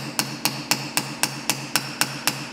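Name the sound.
hammer striking brass to form a rivet head on a knife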